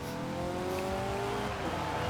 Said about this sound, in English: Once again we can see the all-wheel drive in action, just in the acceleration and launch, just powering us past everyone.